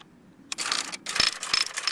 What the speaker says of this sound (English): And now he's going to go to the erase key.